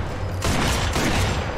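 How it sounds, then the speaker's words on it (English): A Gewehr sniper rifle is hip-fired in Sniper Elite 4, two loud, close booming shots about half a second apart with a brief ringing tail, no talking. "hip firing with the Gewehr"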